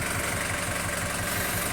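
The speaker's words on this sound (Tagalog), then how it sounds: "4BA1 yung makina, private. Ayan, running condition" Isuzu 4BA1 diesel engine idling in a privately owned 8-seater semi-stainless jeepney in running condition, a steady close rumble with an even low throb and no talk.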